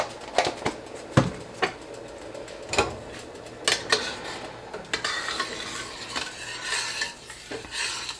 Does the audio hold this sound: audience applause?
no